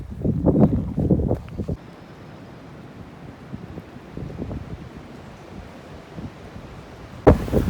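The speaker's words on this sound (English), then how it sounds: "the wind has picked up to insane levels in like the last half an hour" Strong wind gusting along a riverside trail, heavy buffeting rumble on the microphone in surges, easing to a steady roar before a sharp loud gust at the end, no voices.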